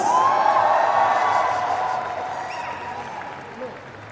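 An audience at the Chatha Pacha trailer launch event applauds to welcome a singer. The clapping is dense, loud and fairly close at first, then gradually fades over several seconds, with a reverberant voice lingering beneath.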